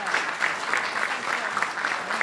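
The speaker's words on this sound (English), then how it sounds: "How about a round of applause for our speakers?" Audience applause at the National Press Club for the speakers after a question and answer session, a steady dense wash of clapping from a sizable crowd, fairly even in loudness throughout.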